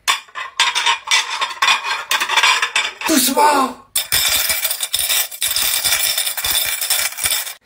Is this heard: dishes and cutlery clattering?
yes